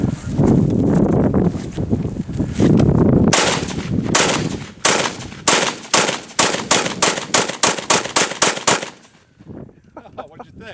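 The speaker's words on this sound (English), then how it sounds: "that's a Springfield SOCOM 2 M1A, and you're gonna shoot at the computer now, aren't you?" A Springfield SOCOM 2 M1A rifle fired in a rapid, even string of about a dozen loud, sharp shots, each a close crack that follows a stretch of busy background noise.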